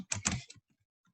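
A few quick keystrokes on a computer keyboard, typed in a short burst of clicks and then going quiet, close and fairly soft, with no talk over them.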